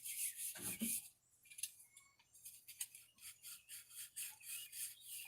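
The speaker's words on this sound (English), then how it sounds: "Over here doing some hard rubbing." Hard, rhythmic hand rubbing on a hot rod's car body, a quiet, raspy back-and-forth scrubbing repeated in steady strokes close to the microphone.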